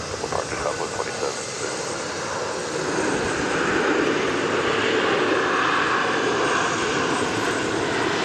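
A Southwest airliner departs Dallas Love Field, its engines building into a loud, broad roar that swells and holds, with air traffic radio chatter heard underneath.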